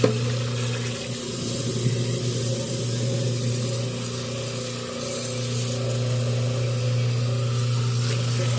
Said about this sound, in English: Now we're going to drain that rice off.